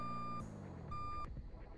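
A bus in the Roblox game Emergency Hamburg reverses with a steady electronic beep, two clear tones sounding over a low engine drone, then cutting off as the vehicle noise carries on.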